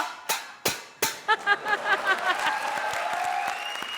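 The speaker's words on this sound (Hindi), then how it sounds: "ताली बड़ी तू ताल में बजा रहा है" Sharp hand claps ring out, a few slow ones then a quicker run, close by, with a faint tone and background murmur behind.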